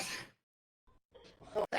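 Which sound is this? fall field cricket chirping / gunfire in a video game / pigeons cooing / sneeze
sneeze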